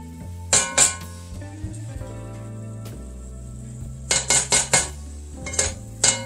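Onion and garlic stirred in a pan, with a utensil clinking and scraping against the metal in bursts, two early and a quick run of four near the end, over a low hum and soft sizzle.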